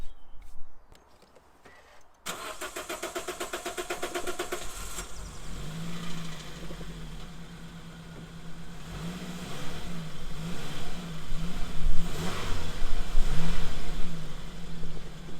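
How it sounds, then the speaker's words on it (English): A Toyota Yaris engine starting after a blocked fuel filter is replaced, with clicks and a struggling crank before the engine catches and settles into a steady idle with a few light revs. "time to start the car"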